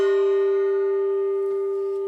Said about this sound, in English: Oh, and he also hit his gong.